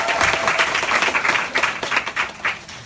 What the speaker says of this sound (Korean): 박수로 인사드리겠습니다.